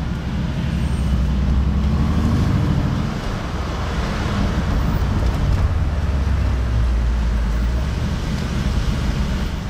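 A Bugatti Chiron rolls slowly through the streets of Monaco, its steady low engine rumble running throughout with a dense traffic wash and no voices.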